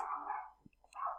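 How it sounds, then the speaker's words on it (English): A neighbour's dog barks loudly next door in a short, agitated burst of two barks separated by a brief pause. "that's a dog next door going ballistic"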